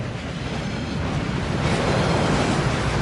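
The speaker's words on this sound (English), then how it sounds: "That waterfall washes away all enchantments." Waterfall at the Gringotts vaults in the Hogwarts Legacy video game, a dense, steady roar of rushing water that swells slightly louder toward the end, heard alone.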